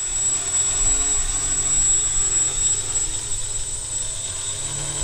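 An X650 multicopter hovers on a test flight, its motors producing a steady, close whine with a high tonal hum over a rumbling low end.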